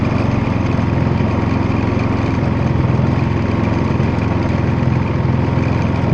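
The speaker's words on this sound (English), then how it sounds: "We have a generator." A portable generator runs at a steady, loud drone beside an RV in a driveway, its even engine hum continuing without change or any talk.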